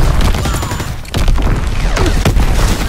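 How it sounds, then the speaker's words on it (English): Enemy artillery fire in the WWII video game Call of Duty: WWII: dense, overlapping booming blasts and sharp bursts of gunfire rumbling loudly and continuously through the whole stretch. "Incoming enemy artillery!"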